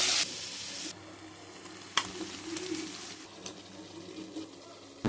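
Onion, tomato and green chilli frying together in hot oil with whole spices, a steady close sizzle with a sharp burst at the start and small crackles and stirring clatter throughout.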